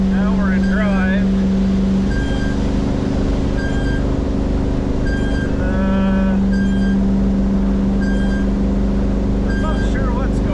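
A car cruises on a highway at about 72 mph, a steady loud engine and road drone with tonal hum; short beeping or chime tones repeat over it, and a voice talks at times.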